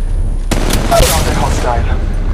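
Enemy gunfire in Apex Legends Mobile: a sharp burst of shots and booming impacts breaks in after a brief quiet and continues densely, mixed with game noise and voice lines.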